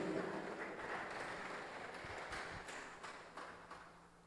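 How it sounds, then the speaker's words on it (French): Moderate applause from students and audience at a secondary school quiz match, fairly faint and tapering off over a few seconds, with scattered individual claps standing out. "On applaudit pour le bombardier de cette équipe."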